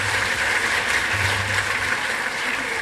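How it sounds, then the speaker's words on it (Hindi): Steady, dense applause from an audience at an honor ceremony at Vigyan Bhawan in New Delhi, continuous and even throughout, with no break or voice on top. "आपसे अनुरोध है कृपया जोर से तालियां बजाएं और हौसला बढ़ाएं सभी का"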